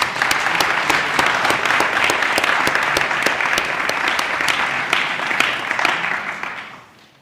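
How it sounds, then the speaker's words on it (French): Thunderous audience applause in a hall for a royal guest at a staged mock trial of Napoleon Bonaparte, close, dense and crisp with distinct individual claps, steady until it quickly dies away at the end. "je lui demande bien évidemment un tonnerre d'applaudissements"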